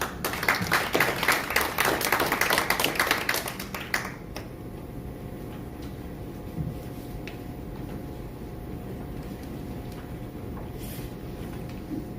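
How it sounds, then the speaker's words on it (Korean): An audience at an indoor academic seminar applauds to welcome the presenters and panelists, a dense burst of clapping for about four seconds that stops abruptly, leaving quiet room tone. "큰 박수로 맞이해 주시기 바랍니다"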